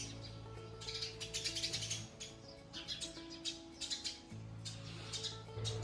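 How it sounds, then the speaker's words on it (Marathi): Busy, overlapping high chirps from several sparrows nearby, continuous over a steady low mechanical hum. "बॅकग्राऊंडमध्ये तुम्हाला चिमण्यांचा आवाज येत असेल"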